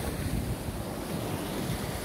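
Seawater washing over a rocky shore in Guam, a steady rush of surf mixed with heavy wind buffeting the microphone, loud and continuous without voices.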